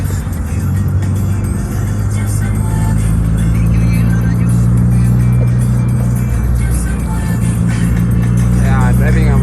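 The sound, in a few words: manual car converted from carburetor to EFI driving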